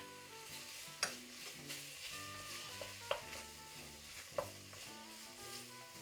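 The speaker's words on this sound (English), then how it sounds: "Give it a stir." A spoon stirs a tomato-based sauce in a pot for Algerian hariri soup, a faint soft scraping under a low hum, punctuated by three sharp clinks of the utensil against the pot's rim.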